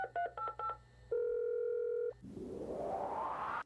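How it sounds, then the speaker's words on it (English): A home computer dialing the phone: a quick run of several touch-tone beeps, a sustained steady dial-style tone, then a rising hissy modem-like sweep, loud and close with no talking. "have your home computer store phone numbers and even dial the phone for you"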